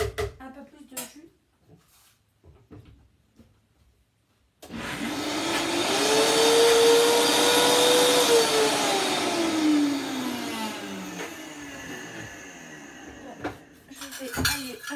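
A food processor whirs loudly while blending dehydrated corn with water, its motor pitch rising then slowly dropping over several seconds, after brief kitchen clinks and handling sounds.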